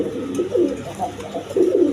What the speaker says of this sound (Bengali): একদম বিগ সাইজের বোম্বাই কবুতর